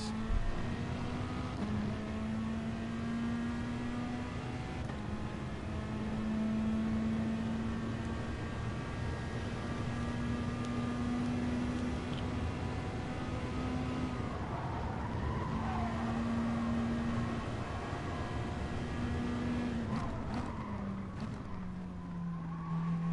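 Gr.3 and Gr.4 race cars lap Suzuka in Gran Turismo Sport, a steady engine drone rising and falling in pitch with gear changes, a tyre squeal partway through and other cars faintly passing, with no talking.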